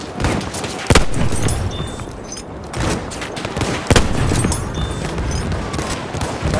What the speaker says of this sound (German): Das Maschinengewehr!